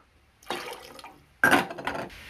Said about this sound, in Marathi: तीन वाटी गऱ्याला इथे आपल्याला 9 वाटी पाणी टाकून घ्यायचं आहे।